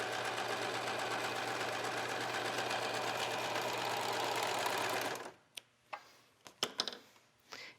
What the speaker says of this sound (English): We're just going to stitch right across.